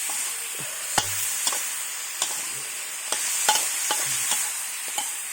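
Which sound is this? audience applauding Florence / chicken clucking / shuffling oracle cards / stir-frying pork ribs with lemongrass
stir-frying pork ribs with lemongrass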